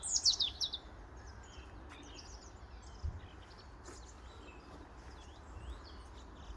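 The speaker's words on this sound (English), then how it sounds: "there's loads of birds just in front of me there on that little branch" Small birds chirp from a branch at Lackford Lakes Nature Reserve in Suffolk, with a loud burst of high tweets at the start, then fainter scattered calls over steady outdoor hiss and low wind rumble.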